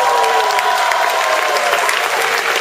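A talent show audience applauds as a vote, dense, loud clapping from a crowd that holds steady for the whole stretch and fills the room evenly.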